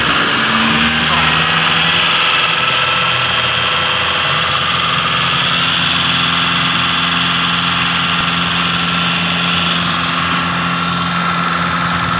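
A Mitsubishi Lancer engine idles steadily while warming up from cold, a loud, continuous mechanical drone with a constant hum and fan-like whine throughout, with no talking.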